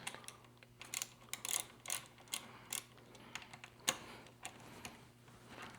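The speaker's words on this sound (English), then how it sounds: "Go ahead and tighten these down." Tightening 8 mm bolts while assembling a TASACA V58 bike: a quiet run of quick ratcheting clicks in short irregular bursts, close and faint, with brief pauses between turns.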